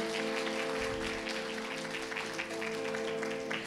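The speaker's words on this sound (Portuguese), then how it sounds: "Você pode aplaudir ao Senhor nessa manhã?" A church congregation applauds at a Portuguese-language worship service, soft and fairly distant, a steady patter of many hands blended with a sustained tonal hum, no voices standing out.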